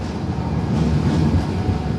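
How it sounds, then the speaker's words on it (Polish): Loud red trams rumble past along a city street, a steady dense roar with low rail rumble throughout, close by and continuous, with no talking. "Tą ulicą zawsze jeżdżą charakterystyczne czerwone tramwaje, które są bardzo głośne."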